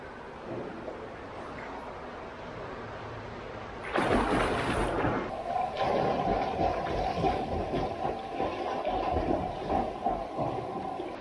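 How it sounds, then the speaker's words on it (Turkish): Kickboard kicking drill in a swimming pool, legs-only freestyle kick: steady rushing, splashing water churn that starts abruptly about four seconds in and continues loud and close, over faint background pool noise before it. "Sadece ayak vuruşu çalışıyoruz havuz içinde."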